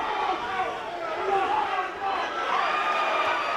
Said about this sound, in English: The partisan crowd definitely is liking that.